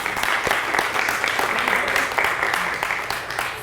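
A lecture audience applauding the architect Upali Nanda, a dense, steady wash of many hands clapping throughout, fairly loud and tapering slightly toward the end.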